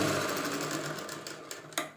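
An electric sewing machine runs briefly, stitching the lining of a blouse with a fast, even whir that tails off, ending in a sharp click.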